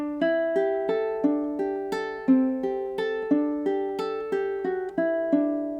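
Ukulele playing a line fast with open strings ringing: a quick, even stream of plucked notes, close and clear, with no voice over it.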